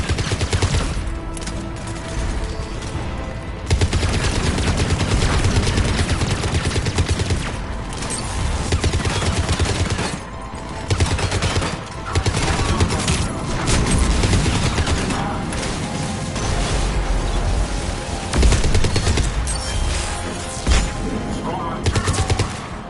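Spaceship cannons blaze in a video game space battle, a continuous, dense barrage of rapid booming shots that runs loud and steady throughout with only brief dips.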